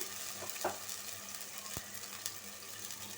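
Spinach frying in a pan with red chilli powder, coriander powder and turmeric, giving a steady low sizzle with occasional stirring scrapes and one sharp tap near the middle.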